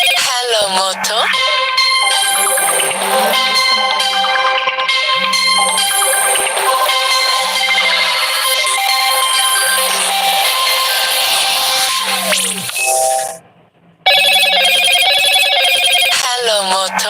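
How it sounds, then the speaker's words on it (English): A phone plays a loud electronic ringtone with repeating melodic chimes, close up and continuous for several seconds, breaking off briefly near the end before resuming. "This phone keep ringing."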